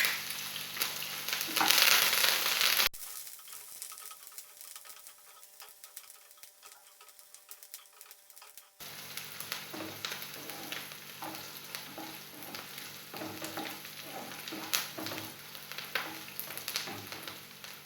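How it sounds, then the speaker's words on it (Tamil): Onion, green chili and curry leaves fry in oil with chana and urad dal for rava upma, a hissing sizzle broken by a quiet gap, then resuming with light ticking stirs. "கடலைப்பருப்பு உளுந்தம்பருப்பு செவந்ததும் நம்ம வெங்காயம் மிளகாய் சேர்த்துக்கலாம்."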